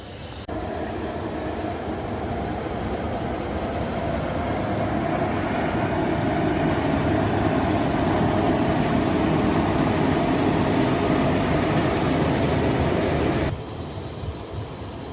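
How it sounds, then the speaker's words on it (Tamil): An express train roars past close by, a steady broadband rumble and rattle that swells and holds for over ten seconds, then cuts off abruptly. "வந்தாச்சு மக்களே, கம்பன் காரைக்கால்"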